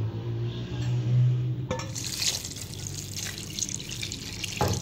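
Water splashes and gurgles as a mug of water is poured in one go into a cooking pot of chicken and spices, following a brief low hum, ending with a small knock.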